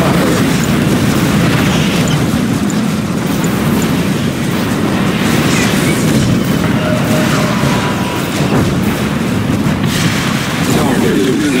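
Battle in the Command & Conquer 3: Tiberium Wars game: continuous heavy weapons fire and booming explosions form a loud, dense rumble throughout, with game unit voices talking over it.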